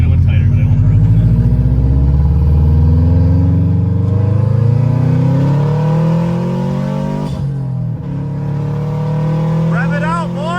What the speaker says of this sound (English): Rev it out, boy!